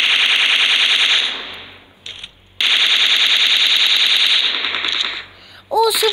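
Rapid automatic gunfire in a battle-royale video game, two long sustained bursts of rattling shots with a short gap between them, loud and close, with no voices over it.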